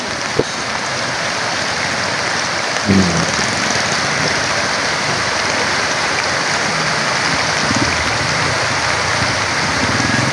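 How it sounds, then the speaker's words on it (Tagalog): Steady rain hisses down alongside a broad rush of flowing flood water, constant and fairly loud, with one brief thump partway through. "patuloy pa yung ulan, kaya lang medyo mahina na"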